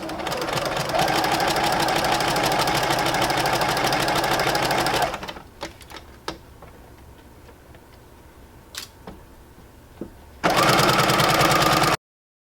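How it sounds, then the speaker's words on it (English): A sewing machine runs a straight stitch around the edge of a baby quilt: steady, loud motor whirring for about five seconds, then a quieter pause with small clicks and taps, before the stitching resumes near the end. "Let's take it over to the sewing machine and get our straight stitch with about a 1/4 inch seam allowance around the entire quilt"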